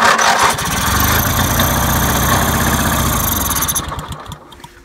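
A lawn tractor engine on full choke at about three-quarter throttle runs loud and close with a steady, busy rumble, then winds down and fades over the last second.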